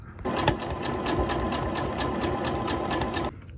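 A sewing machine stitching a shirt made from a thrift store tablecloth, running fast and continuously with a close, steady mechanical whir and rapid needle clatter for about three seconds before stopping.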